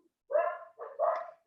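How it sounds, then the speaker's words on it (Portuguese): Female dogs barking nearby, with four loud, clear barks. Two come close together in a quick pair, and the others follow after short pauses in a quiet setting. "Que hora para as cachorras latirem?"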